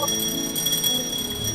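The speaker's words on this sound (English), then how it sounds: "press the switch for the bell and you will be able to hear the bell clearly" Electric bell inside a glass bell jar hooked to a vacuum pump, ringing steadily at moderate loudness with a continuous metallic tone and no pauses, while the jar still holds air.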